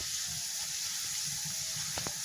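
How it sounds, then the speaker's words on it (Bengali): Thin potato chip slices frying in moderately hot oil, a faint steady sizzle and hiss close by, with a couple of small clinks near the end and no speech. "এরকম ভাবে দিয়ে ভেজে নিতে হবে।"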